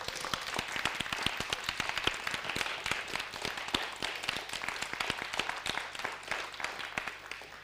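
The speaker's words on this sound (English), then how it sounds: "Can we have a big round of applause for the People Speak?" A live audience at a panel event breaks into sustained applause, dense overlapping claps at steady moderate loudness throughout with no talking.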